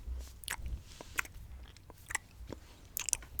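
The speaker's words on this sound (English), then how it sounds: "You spear one with your fork and pop it into your mouth and chew." Chewing on soft dauphinoise potatoes up close, with a few moist crunchy bites and mouth clicks scattered over roughly three seconds against a low, quiet background.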